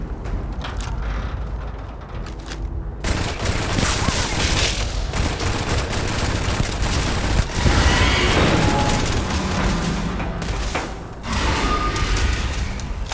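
Dense volleys of gunfire in the space game Starfield, with rapid shots and bursts mixed among mechanical clanks and booms, loud and sustained across a long firefight.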